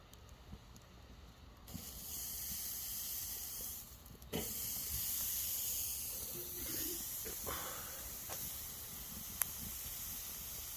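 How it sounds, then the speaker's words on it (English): Steak searing on a hot outdoor grill, giving a steady loud sizzle and hiss that runs through the whole stretch with a few brief pops and cracks, no talking. "Gotta sear it first."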